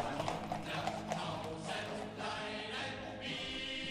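Horses' hooves clip-clop in an irregular rhythm on a street during the German occupation of Watermael-Boitsfort, moderately close among background noise and soft layered sound.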